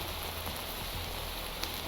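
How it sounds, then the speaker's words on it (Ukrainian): Steady rain falls in a Minecraft-style survival game, a dense even hiss of drops on surfaces with no voices, constant and close throughout. "На дворі дощ це погано, тому що під час дощу на полях спавняться зомбі."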